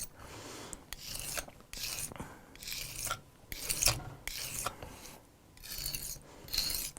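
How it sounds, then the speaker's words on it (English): A blade edge being ground while sharpening, heard as a series of rasping, scraping strokes, about eight distinct passes with short pauses between them, close and fairly quiet. "the grinding of the secondary edge and grinding of a new primary edge will kind of flatten out and work your sharpening surface"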